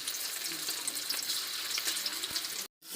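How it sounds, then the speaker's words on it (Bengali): Chicken pieces sizzle steadily in hot oil in a pan, a bright continuous frying hiss that stops suddenly with a brief silence just before the end. "গরম তেলে যখন চিকেন ছাড়ছে"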